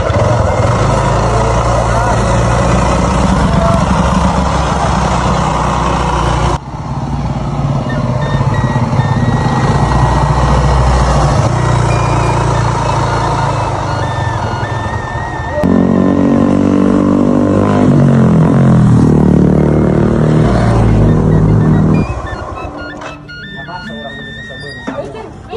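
A motorcycle engine idles with a steady rumble, then revs in a rising, rhythmic surge before dropping back. Voices talk over the engine throughout.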